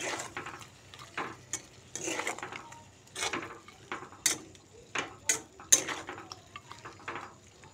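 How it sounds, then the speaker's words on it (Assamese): A spoon stirs boiled pork with added water in a pot for a Naga-style dish, giving uneven clinks and scrapes against the metal with soft wet sloshing, close and moderately quiet. "এইখিনিও ধুনীয়াকৈ মিলাই ল'ম"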